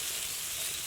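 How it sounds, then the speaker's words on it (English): Vegetables frying in a pan over a camp stove at a tiny cabin, giving a steady close hiss and sizzle throughout. "just sort of frying it, but not too flash fry."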